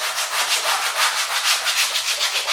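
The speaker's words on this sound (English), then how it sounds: "And then you can actually use like a piece of a sandpaper and" Sandpaper rubbed by hand over a BMW E46 sunroof panel to clear leftover glue, a steady rasping scrape in even back-and-forth strokes, close and alone.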